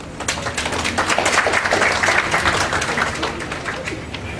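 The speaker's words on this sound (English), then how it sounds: "So I'd like to give a round of applause for my councillor." Applause from an audience at a community event for a mosque and aquaculture centre, greeting a local councillor; steady dense clapping at moderate loudness across the whole stretch, with no speech over it.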